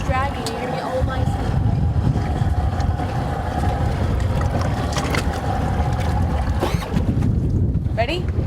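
A small boat's outboard engine drones steadily after running over a rope that has tangled in it, with loud wind buffeting the microphone and voices talking over the motor throughout.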